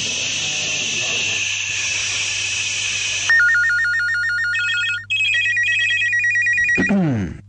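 A mobile phone rings loudly with a repeating electronic beeping tone that follows a stretch of noisy crowd sound, then cuts off abruptly at the end.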